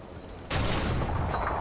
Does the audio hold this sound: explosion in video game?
yes